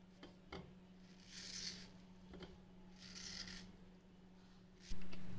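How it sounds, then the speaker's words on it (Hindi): A knife slices a peeled mango with soft, rasping strokes in a few repeated passes, quiet and close, with a light clink at the end. "आम को काट लेंगे।"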